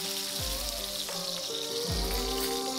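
Steak sizzles in a hot cast iron skillet with avocado oil, a steady crackling hiss with scattered pops, moderately quiet, while low sliding tones sweep downward twice in the background; no one speaks.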